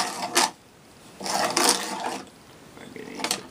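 A hand tapering tool shaving wood to about a six-degree taper, heard as a few separate rasping cutting strokes, fairly close and clear, with short quiet gaps between them.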